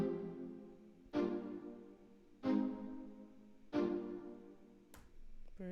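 Short string stabs in an FL Studio beat hit three times at an even, slow pace, each one sharp and quickly fading, followed by a brief final click, quiet and with no talking.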